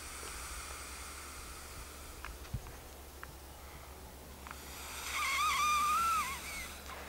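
Breath is blown into the valve of a Multimat Summit sleeping mat, giving a soft, breathy rush of air that swells near the end and is close and fairly loud, with faint squeaky tones.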